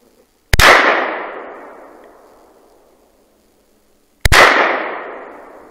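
Two loud rifle shots from a Dragunov or SKS, about four seconds apart, each a sharp crack followed by a long rolling echo that fades out, with no talking.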